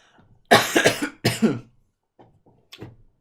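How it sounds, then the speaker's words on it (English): A man coughs close by in two harsh bursts of several hacks each, followed by softer throat-clearing sounds and a final short cough. "Excuse me, I need to cough again."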